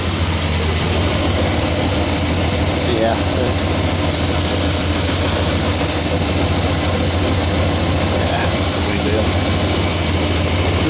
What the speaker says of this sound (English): I think I hear a little bit of exhaust leak.